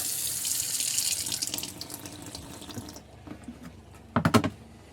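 Water gushes steadily from an RV faucet with a bright hiss while winterizing, then thins to a trickle with a few close splashes and drips near the end.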